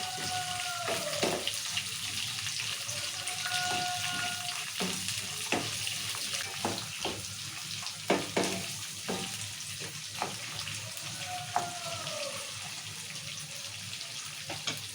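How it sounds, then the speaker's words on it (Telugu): Chopped tomatoes and onions fry in oil in a pan for upma, giving a steady sizzling hiss. Scraping stir strokes and clinks sound intermittently over it, with occasional louder knocks. "ఇప్పుడు టమాటాలు వేసుకున్నాము"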